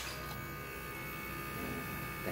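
A steady electric hum drones without pause, a small motorcycle fuel pump whirring close by at constant level.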